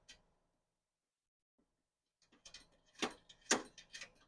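A bolt is tightened during assembly of a US General tool cart, giving a quiet run of sharp, ratchet-like metallic clicks in the last couple of seconds after a near-silent stretch.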